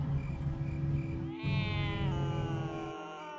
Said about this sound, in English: Why is there always an evil cat around?